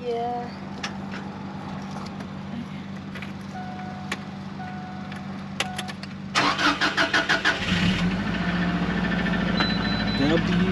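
1997 Subaru WRX AWD turbo cranks over and fires up, a whirring starter burst followed by the engine catching into a steady, slightly rough idle, close by, over a continuous interior hum.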